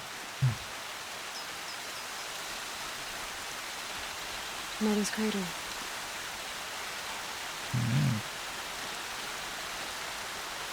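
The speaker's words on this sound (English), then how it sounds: "That went from sunshine to rain very quickly." Steady hissing rain falls continuously in the video game Horizon Zero Dawn, with a few short voice snippets breaking through.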